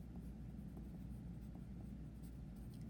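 A pen scratches across paper in steady, faint strokes during a math lesson, set against a constant low hum of background noise, with no talking.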